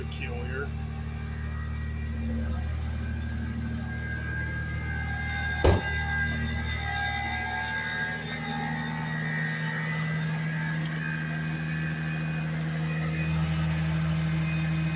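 A car engine idles steadily while warming up after a jump start from a Harbor Freight battery charger, a constant low hum running through with a single sharp click partway.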